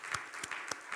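A church congregation applauds during a Korean revival meeting: a few sharp, scattered claps in a single brief burst, close and moderately loud.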